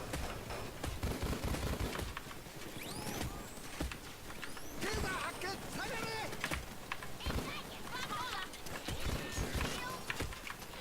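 Akimbo Judge shotguns firing in Payday 2: a run of sharp, booming shots at an irregular pace, mixed with clattering game action and someone talking over them.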